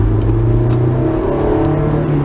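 A 2002 Honda S2000 roadster, first-generation car with the higher redline, runs with a loud, close engine drone sustained through a brief rev, with no one talking.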